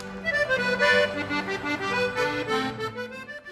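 An accordion in Tejano conjunto style, heard in a former West Side nightclub, plays a lively, full-toned melody over sustained chords. It sounds continuous and close, with no voices.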